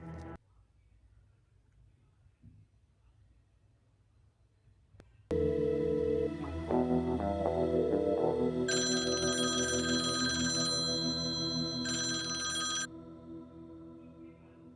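After a few seconds of near silence, a telephone in a police office starts ringing loudly, with electronic ring tones and a higher warbling tone that carries on steadily for several seconds before easing off.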